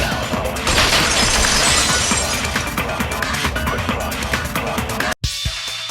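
Vase shattering in Danganronpa 2: a sustained, loud crash of breaking ceramic with scattering fragments lasting several seconds, ending in a sudden cut and a brief quieter tail.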